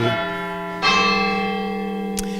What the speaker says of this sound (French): au-dessus, on vient de les entendre, il y a les cloches